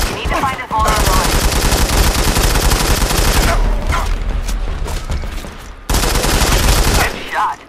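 Sniper rifle fire in the Sniper Fury video game during a castle assault mission, with loud, sustained gunfire bursts and booming reports filling most of the clip, broken by brief pauses.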